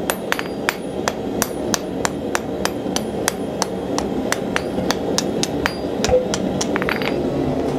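A hammer striking hot steel on an anvil while forging a door handle, a long run of sharp ringing blows at a steady, slightly uneven pace, loud and close with a few lighter taps near the end.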